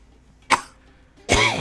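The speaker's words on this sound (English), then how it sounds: "Shadow coughs to cover up his laughter." A single sharp cough voiced by a narrator reading fan fiction, short and close, followed after a pause by a longer voiced burst like stifled laughter.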